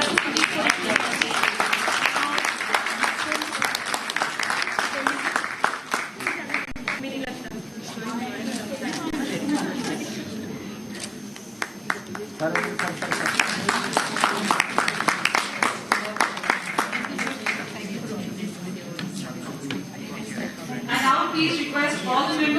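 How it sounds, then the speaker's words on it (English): An audience at a university education event applauds in bursts, with loud clapping rising and fading several times and some talk and chatter mixed in between. "A big round of applause for Professor Sanjeev Puri."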